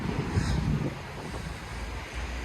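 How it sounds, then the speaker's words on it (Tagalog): Steady, strong wind roars and buffets the microphone, with a low rumble that sounds like surf. No one speaks. "lakas ng hangin yung hangin may dalang lamig"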